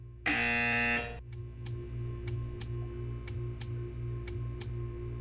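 A single loud, harsh buzzer from the video game Portal 2 blares for about a second, followed by quiet regular ticking over a low steady hum.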